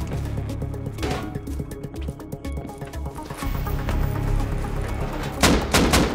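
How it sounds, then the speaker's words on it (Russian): Automated turrets firing in a video game: rapid, sustained bursts of gunfire rattle steadily throughout, loud and close, with heavier blasts near the end over a dense background of game noise. "Их сейчас турели перебивают."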